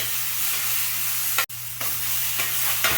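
Beans added to a hot pan with finely chopped onion, tomato and chili for Yemeni-style dry and fresh beans, crackling in a strong close sizzle with a short pause and a few stirring scrapes.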